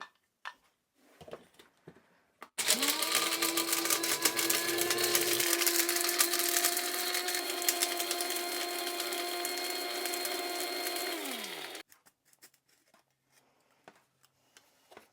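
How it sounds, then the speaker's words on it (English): A coffee grinder grinds roasted dandelion roots. A high motor whine spins up sharply, holds steady and close for about nine seconds with a rattling edge, then winds down. Faint handling noises come before and after. "We're going to add some to a coffee grinder, get them ground up"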